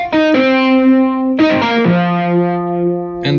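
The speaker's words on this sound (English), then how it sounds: "Another effect is distorted wire." A Yamaha PSR-E383 keyboard played with its distortion effect: loud, buzzy sustained notes with rich gritty harmonics, several pitches shifting and held in succession, with no talking over them.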